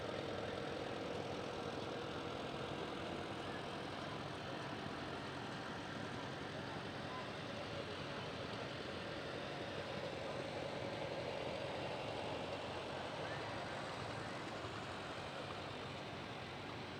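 Tractor engines idle and chug steadily at a moderate distance in a festival parade, a continuous mechanical rumble with faint background commotion, running for the whole stretch.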